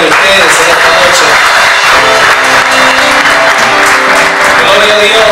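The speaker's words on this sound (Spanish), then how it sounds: "yo quiero que le regale un aplauso a Dios y un aplauso a cada uno de ustedes en esta noche" Sustained applause from a church congregation fills the room, dense and loud throughout, with faint voices mixed in beneath the clapping.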